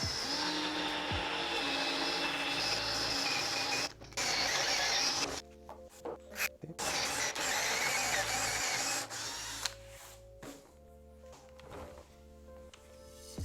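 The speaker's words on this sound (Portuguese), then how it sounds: "A primeira coisa a fazer é um furo a cada extremo da caixa de quilha, onde marcamos." A drill bores holes at each end of a fin box in a surfboard, whirring in bursts of several seconds broken by short stops and restarts, close and fairly quiet.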